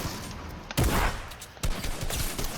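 Gunfire in the video game Fortnite, loud bursts of rapid automatic shots from an assault rifle, two heavy volleys close up over constant game noise, no talking.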